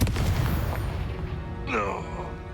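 Explosive Confringo and Bombarda spells in the video game Hogwarts Legacy land as deep, rumbling booms, one blast rolling into the next, with a brief voice-like cry rising over the noise near the end.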